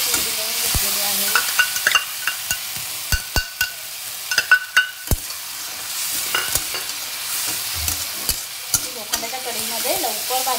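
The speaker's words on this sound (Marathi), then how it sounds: "आता आपण ह्याच्यामध्ये हे टॅमॅटोची प्युरी टाकूया" Tomato puree goes into peas frying in an iron wok for a peas, soybean and potato curry, bringing a loud sizzle with repeated sharp clinks and scrapes of stirring.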